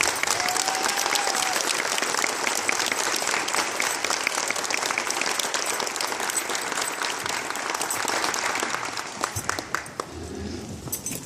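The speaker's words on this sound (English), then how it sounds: "Let's give them all one more big round of applause." Audience applause at a sixth grade promotion ceremony, dense sustained clapping from a large crowd that tapers off near the end.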